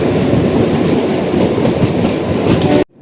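The Kalka–Shimla toy train rolls along the rails beside a road with a loud, continuous rumble and rhythmic clatter, close by, cutting off abruptly at the end.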